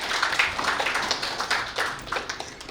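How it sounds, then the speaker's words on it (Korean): Guests clap at a press outlet's founding anniversary ceremony. The claps are light and scattered, with distinct individual hand strikes rising and falling irregularly over a few seconds. "박수 한번 부탁드리겠습니다"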